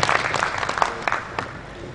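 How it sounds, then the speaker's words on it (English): An audience at a conference on financial fraud and cybercrime applauds a guest speaker: a burst of many hands clapping that starts full and gradually thins and fades. "A round of applause for Mr."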